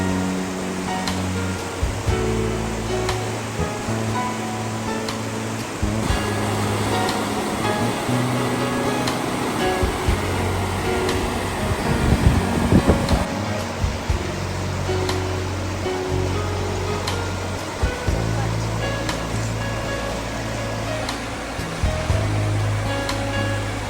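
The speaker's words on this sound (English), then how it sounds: "We're at St. Anne's Waterfall, or St. Anne's Chutes." Rushing, roaring water pours continuously, a dense steady roar of St. Anne's Waterfall with no voices.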